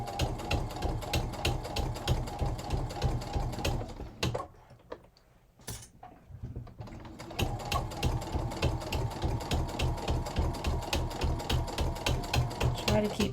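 A sewing machine fitted with a denim needle stitches through several layers of fabric, a loud, fast, even mechanical chatter close by that stops briefly for a second or two before resuming at the same steady pace.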